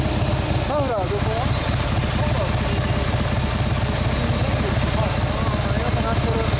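A 2013 Harley-Davidson CVO Breakout (FXSBSE) with Screamin' Eagle sound idles close by, a loud, continuous low throbbing rumble, with people talking briefly over it.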